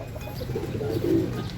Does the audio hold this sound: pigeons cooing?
yes